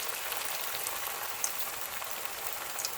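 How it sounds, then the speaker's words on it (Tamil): Semolina snacks deep-fry in hot oil, a soft, steady hiss and crackle of bubbling with faint pops scattered through it. "ஒவ்வொன்றா பொரிக்க ஆரம்பிச்சிடலாம்."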